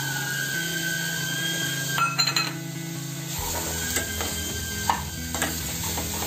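Peas and jackfruit vegetable stirred and frying in a pan, a soft constant sizzle broken by a few close scraping clinks of the spoon against the metal, with background hum and no talking.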